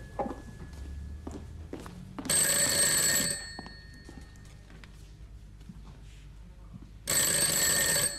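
An old-style telephone in a public phone booth rings loudly in two long bursts of bright bell ringing, separated by several seconds of quieter background with footsteps and small knocks.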